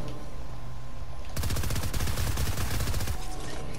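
Rapid automatic gunfire in Fortnite starts abruptly after a quiet opening and hammers on as a steady, loud stream of shots to the end, with no talking.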